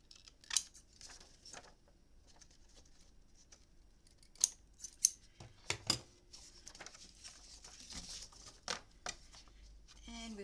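Scissors trimming paper for a lavender Christmas memory book: a run of crisp, close snips and paper rustles, some separate and some in quick bursts, with faint, intermittent speech.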